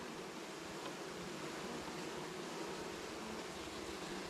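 Bees buzz around a homestead hive where a marshmallow plug has been set, a steady dense hum that stays even and unbroken throughout, with no voices.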